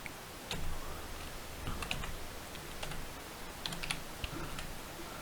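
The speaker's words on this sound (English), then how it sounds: "Let us type some more positive numbers also." Typing on a computer keyboard while entering numbers into a spreadsheet, with steady irregular clicking keystrokes at close range throughout, no speech.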